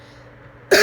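A single sharp throat-clearing cough bursts in at the end after near silence, loud and close.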